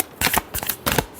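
A deck of tarot cards is shuffled in two quick riffling bursts, crisp and close, with no talking.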